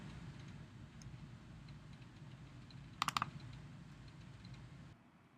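A burst of three or four sharp computer mouse clicks, close and crisp, over a steady low background hum, with quiet room noise before and after.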